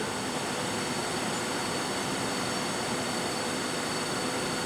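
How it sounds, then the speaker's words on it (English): An induction motor runs at its rated 420 volts during a no-load test, giving off a loud, steady broadband hum and whir that holds constant throughout, with no speech. "Now I will just make sure that my motor will rotate at the rated voltage."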